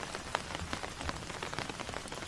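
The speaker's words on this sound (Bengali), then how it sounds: "এদিকে মুসলধারে বৃষ্টি হচ্ছে বৃষ্টির বড় বড় ফোঁটা টিনের ওপর টপ টপ করে ঝরছে" Heavy rain pounding a tin roof during a downpour, large drops striking in a dense, steady patter with scattered louder ticks, close and continuous throughout.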